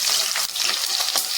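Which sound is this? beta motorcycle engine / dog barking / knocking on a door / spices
spices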